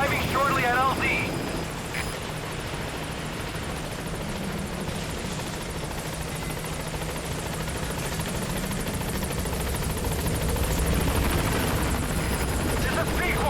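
The Pequod support helicopter in Metal Gear Solid V drones steadily as it arrives at the landing zone, a loud continuous rotor roar under radio chatter.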